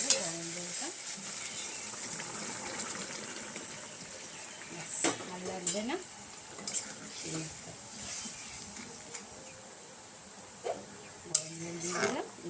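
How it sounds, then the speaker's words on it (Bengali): A puti fish curry with potato and vegetable stalks cooking in a pan makes a continuous bubbling sizzle, broken by a few sharp utensil clinks and scrapes against the pan, with brief voices in the background. "এভাবে কিছুক্ষণ ফুটুক ফোটার পরেই আমরা মাছটা দিয়ে দেবো"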